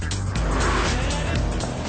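A 2007 Smart fortwo cornering on a twisty road gives a short burst of loud, steady road and tyre roar with a faint squeal, close and without talk.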